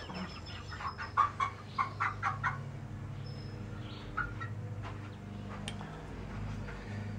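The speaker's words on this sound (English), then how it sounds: "Try catch these chickens" A run of short, rhythmic clucks from young pullets up close as they are caught, then scattered softer calls over a steady low hum.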